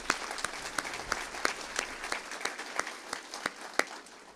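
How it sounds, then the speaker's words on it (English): Applause rings out at a university fall faculty and staff assembly, a loose, sparse crowd of clappers whose individual sharp claps stand out against a softer background of hands. "give him a round of applause and his team"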